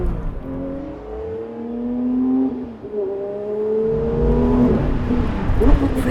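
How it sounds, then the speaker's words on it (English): A 2024 Porsche 911 S/T engine revs hard and climbs quickly through rising pitch, dips briefly, then pulls up again, loud and close from inside the car, with no talk over it. "It revs so quick."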